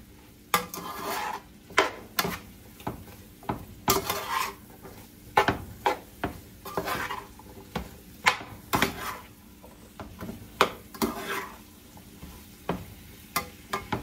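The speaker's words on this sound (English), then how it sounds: "I'm using this big pan because I want to be able to mix everything up real good, and I want everything to get like a little crust on the potatoes." Potatoes being stirred in a big pan so they crust while frying, with repeated scraping and clinking of a utensil against the pan in an irregular rhythm over a soft sizzle, close and fairly loud, no talking.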